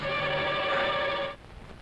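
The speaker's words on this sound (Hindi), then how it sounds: "बॉस आपके लिए फोन।" An old-style telephone bell rings in a steady sustained burst for over a second, fairly loud and alone, then cuts off abruptly to quiet room tone.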